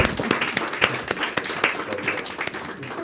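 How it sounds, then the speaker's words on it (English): An audience claps for a panel at a roundtable event. Moderate, even applause with distinct individual claps runs for a few seconds at medium distance. "you can applaud these people"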